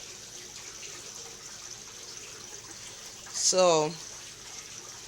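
Water runs in a constant, quiet stream through a home aquaponics swirl filter stocked with four goldfish, a low steady trickle under a faint hum, with one short spoken word partway through.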